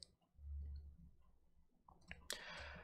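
A single mouse click on a download button during a Ubuntu install on Hyper-V, a quiet sharp tick against faint low room hum, followed by a brief broadband burst.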